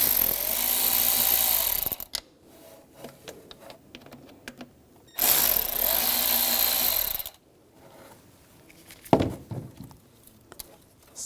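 Two long bursts of a power ratchet or driver whirring close by with a T25 socket as screws come out of a bracket on a Volkswagen GTI, separated by quiet clicks and handling of parts.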